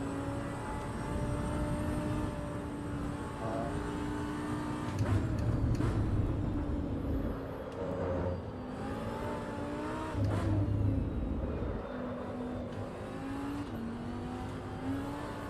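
A Lamborghini engine in the racing game Assetto Corsa Evo drones steadily at high revs, climbing and dropping in pitch with gear changes and throttle lifts, loud and continuous with no voices.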